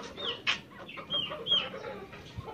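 A desi rooster and hens cluck close by in a village yard, a run of repeated short clucks and squawks rising and falling over a couple of seconds.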